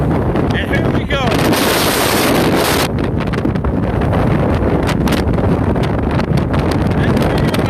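Strong inflow wind at a tornado storm chase buffets the microphone in loud, continuous roaring gusts, close and rough, with a faint voice briefly under the noise.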